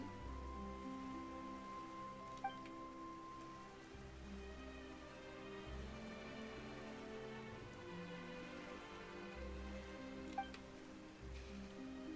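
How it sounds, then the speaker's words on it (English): Steady rain patters softly under gentle sustained music in Genshin Impact, with an occasional brighter drip standing out. "Why is it raining all of a sudden?"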